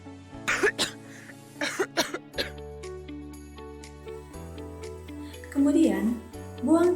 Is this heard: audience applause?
no